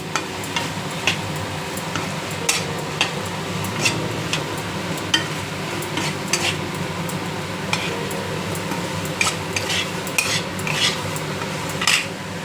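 Turmeric powder being stirred into frying food in a pan while making ghugni with fish roe, with a steady low sizzle under repeated soft scraping and clinking of a utensil against the pan, close and moderately loud, no talking.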